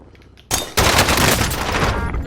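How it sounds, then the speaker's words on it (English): Dense gunfire in a video game shootout, with a sudden loud burst that turns into sustained rapid shooting and blasts, heard close and alone without talk for a couple of seconds. "They're shooting!"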